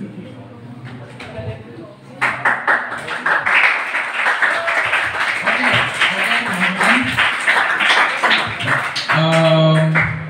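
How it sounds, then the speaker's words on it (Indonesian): A school audience applauds a student named Kevin at a student council election event, a loud sustained burst of many hands clapping that starts abruptly after a speaking voice and carries on, with talk returning near the end. "Kita berikan aplaus untuk Kevin yang sudah berani bertanya. Berikan tepuk tangan untuk Kevin terlebih dahulu."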